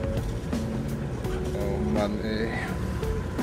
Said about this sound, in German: Der scheiß Motor dröhnt immer zu.